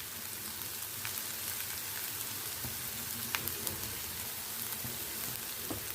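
Cluster beans sauté in a hot pan, giving a steady close sizzle with scattered crackles and small pops throughout, and no voices.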